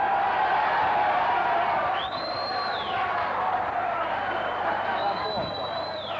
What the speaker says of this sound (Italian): un applauso al concorrente di Feddiani